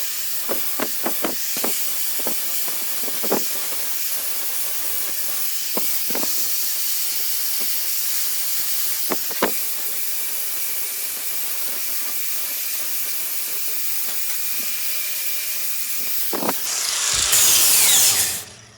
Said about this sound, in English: I've just used my flap disc sander,